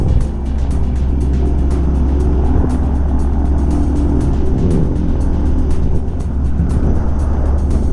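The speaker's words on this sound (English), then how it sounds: "Got to let our engine warm up." A microlight trike aircraft's engine idles while warming up on a grass airfield at Maryborough, a loud, steady, close droning rumble with a fine rapid flutter and no pauses.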